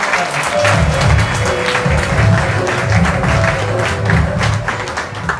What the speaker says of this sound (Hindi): तो एक बार अपने आप के लिए जोरदार तालियां